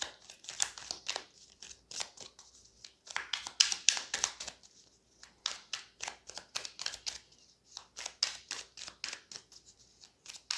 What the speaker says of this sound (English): feel free to fast forward past the shuffling if you don't want to sit through that